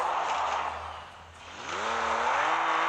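A car in the Car Parking Multiplayer video game drifts and skids, its tires squealing in rising and falling whines over a low engine hum. The sound is faint and brief, dipping midway before the squeal returns.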